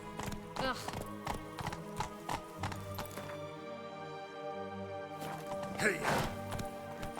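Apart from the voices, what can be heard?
horse galloping hooves in video game Witcher 3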